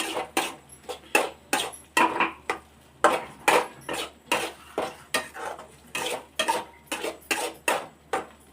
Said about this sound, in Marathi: मसाला हलवून घ्यायचा